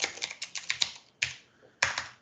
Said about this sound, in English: I'm pressing the wrong keys, Command V